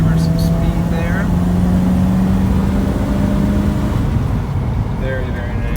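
A 1969 Ford Mustang Mach 1 tribute picks up speed while cruising on the road, its engine a steady close drone with rising tone, with someone speaking over it.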